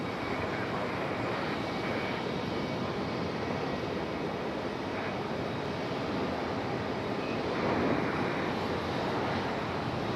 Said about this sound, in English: Here we go, AeroMexico headed back to Mexico City.